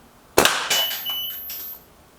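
A single sharp crack of a Reximex Ixia Compact air rifle shot, close and loud, with a brief metallic ring trailing off over the following second.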